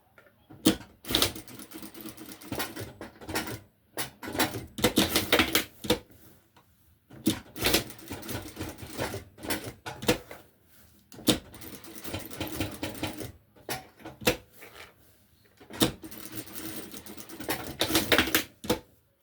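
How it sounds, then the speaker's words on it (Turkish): A sewing machine stitches a fabric bag in repeated bursts of fast mechanical rattling, each run lasting a second or two and separated by brief pauses, close and fairly loud with no talking. "Bunu da dikiyorum."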